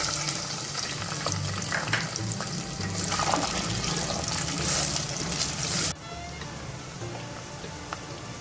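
Onions go into about a cup of hot oil and fry with a loud, dense hiss and bubbling close by, the sizzle dropping sharply partway through before continuing more quietly.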